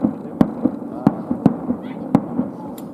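New Year fireworks at Motomachi Park in Hakodate pop as sharp, distant bangs several times in quick succession, over a low murmur of background noise.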